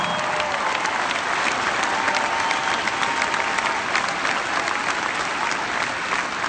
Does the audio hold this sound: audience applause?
yes